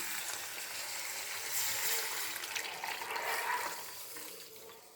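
Cooking water from boiled green gram pouring steadily into a pot, a soft continuous splashing that swells in the middle and tapers off at the end.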